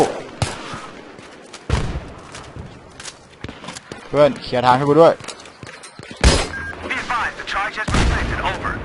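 Battlefield 3 gunfire cracks out in sharp, irregular bursts of shots and booms, some close and loud, with scattered impacts between them. Someone talks over the firing.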